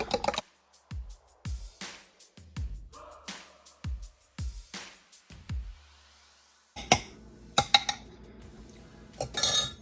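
Eggs seasoned for macaroni and cheese beaten in a bowl with a utensil, a series of sharp clinking taps against the side, then a pause and a burst of louder scraping and clattering near by.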